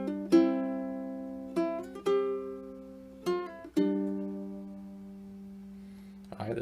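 A section of a piece is played fingerstyle on a low-G ukulele, with single plucked notes and paired strings ringing out and decaying in a slow, gentle rhythm, close and clear, with a faint handling noise at the end.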